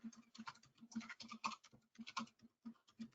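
Email addresses typed on a computer keyboard, quick irregular key taps clicking close and quietly in bursts, alone without talk.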